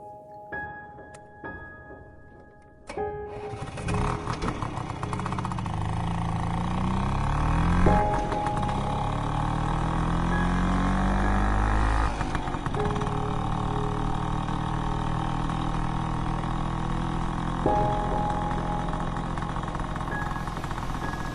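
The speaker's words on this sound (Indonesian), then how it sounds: "Kulajukan motor Vespaku di jalanan Bandung yang sudah mulai sepi." A Vespa motor scooter on a quiet road in Bandung at night starts up and rides along with a steady buzzing engine drone that rises and falls as it changes speed, loud and close, with no talk.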